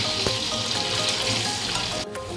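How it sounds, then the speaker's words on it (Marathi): Cubes of paneer fry until golden in a hot pan, giving a steady, close sizzling hiss with faint stirring clicks and no voices. "जास्त उडणार नाही ते गोल्डन होऊन फ्राय करून घेऊया"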